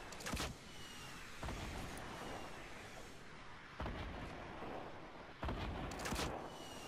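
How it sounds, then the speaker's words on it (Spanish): Repeated bazooka shots and blasts in a Fortnite match land as several sharp bursts over a constant noisy game background, spaced a second or two apart. "Le disparo con bazooka."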